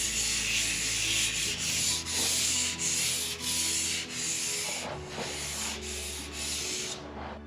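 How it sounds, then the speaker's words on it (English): An orbital sander smooths undercoat on a car body during a final paint job, a close, hissing rasp that swells and dips in rhythmic passes as the pad moves back and forth. "the tool I'm using here is a 400mm Rupees orbital sander"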